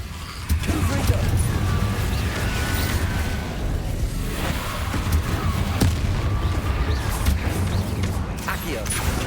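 Confringo fire spell in Hogwarts Legacy on PS5, cast as blasts amid continuous loud combat rumble, with booming impacts and crackling effects layered over a dense low-end battle bed, alongside other spells being cast.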